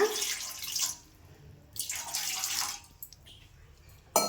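About a glass of water is poured into a pan on a gas stove to make sugar syrup, giving two bursts of splashing pouring separated by pauses, fairly faint and close.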